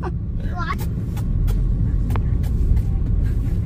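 Traffic jam on a Saigon road, cars and motorbikes rumbling steadily nearby with a few short horn toots, while people talk over the noise.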